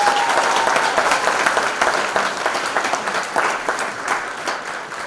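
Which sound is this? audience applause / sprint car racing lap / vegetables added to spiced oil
audience applause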